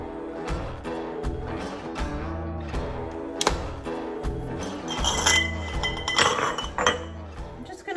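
Glass canning jars clink repeatedly as pork is packed into them for pressure-canned beans with pork. The clear, ringing taps and knocks come at an irregular pace over a continuous tonal background.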